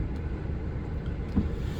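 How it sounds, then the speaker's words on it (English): A 2015 Honda Brio automatic petrol car moves off with a steady low engine hum and road rumble, heard from inside the cabin at moderate level with no talking. "The moment I release the brake, the car shoots."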